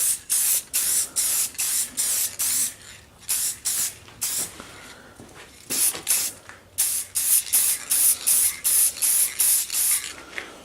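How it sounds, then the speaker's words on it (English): A spray can lays a gloss clear coat over metal-flake copper and bronze interior trim from a first-generation Dodge Ram. Short hissing bursts repeat in a steady rhythm, with a few longer sprays and brief pauses between them. "So let's go ahead and put a gloss skim coat of this."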